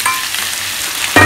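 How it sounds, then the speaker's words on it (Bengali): Vegetables and marinated chicken are stirred and fried in a pot for a Bengali chicken pish pash, giving a low steady sizzle with a louder burst of frying and scraping near the end. "সবজিগুলো দিয়ে কিছুক্ষণ নাড়াচাড়া করার পর দিয়ে দিচ্ছি ম্যারিনেট করে রাখা চিকেনটা"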